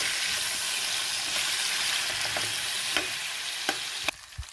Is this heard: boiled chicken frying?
yes